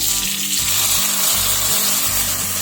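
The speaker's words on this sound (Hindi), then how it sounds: "अब सामा व्रत के चावल को हमें घी के अंदर अच्छे से फ्राई कर लेना है।" Samak (barnyard millet) rice frying in ghee for a Navratri vrat kheer gives a steady close sizzle, with a rhythmic low scraping from regular stirring about every third of a second.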